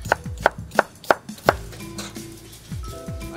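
A knife cuts a yellow onion into julienne strips on a board in five quick, crisp, evenly spaced chops up close, followed by quieter kitchen clatter.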